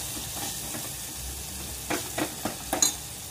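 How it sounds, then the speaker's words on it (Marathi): Spices with salt and turmeric being sautéed in a pan for a drumstick vegetable dish, a soft steady sizzle joined late by a few quick spatula scrapes and clinks. "त्याला छानसं परतून घेऊया आपण"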